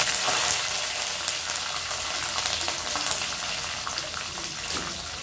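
Curry leaves and dried red chillies sizzle in hot oil for curry leaf rice, a steady, loud, close crackle of frying that runs throughout with no talk.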